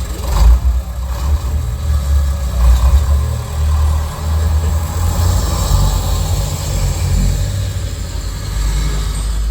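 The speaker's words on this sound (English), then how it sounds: "that's actually a Harley Davidson. I tape recorded that." A Harley-Davidson motorcycle played back from a tape recording, a loud continuous low engine rumble with a steady throb that swells and eases slightly, running alone without talk.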